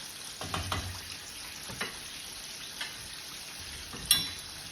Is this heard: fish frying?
yes